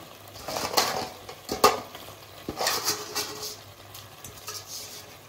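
Washed crab pieces get stirred into a spice paste in a pan, with soft wet scraping and a few spoon clinks against the metal coming in irregular bursts over a faint low sizzle, close by with no talk.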